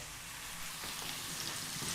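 Onions frying in oil in a pan while chicken is prepared, a soft, steady hiss and crackle of sizzling, faint and close, with no talk.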